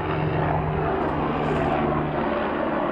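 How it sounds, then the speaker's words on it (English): A helicopter flies over a house in Mesa, Arizona, giving a loud, steady rotor and engine roar that holds for the whole stretch, with no talking. "Sounds like a helicopter."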